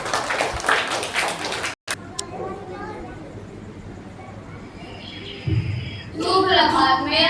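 An audience at a school Independence Day celebration gives a dense burst of clapping, followed by a quieter stretch with a voice over faint background noise, before clapping and crowd noise rise again at the end.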